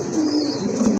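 Quality hen pigeons in a coop held for sale, including an orange Chila, give a short, close burst of low cooing that stops abruptly after about a second.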